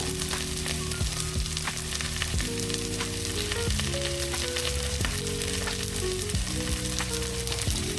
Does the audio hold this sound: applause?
no